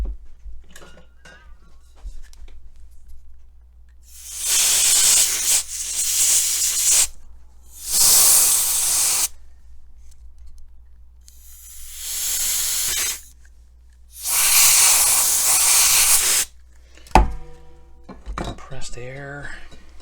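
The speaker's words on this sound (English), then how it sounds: "Compressed air." Compressed air blasted into a paint crack on a 1960s Fender guitar, four separate hissing bursts each lasting one to two seconds, close and loud, with quiet gaps between them and a brief clatter near the end.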